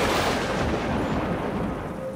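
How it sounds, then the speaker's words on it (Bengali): A cartoon thunderclap rolls through a stormy night, a loud sustained rumble that fills the whole stretch and fades slightly toward the end, with no voices. "বউটার কান্নার শব্দ ঢাকা পড়ে বাজ পড়ার শব্দে।"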